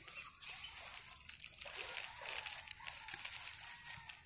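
Water sloshes and trickles softly as vegetables soak, with faint splashes and dribbles close by at low volume.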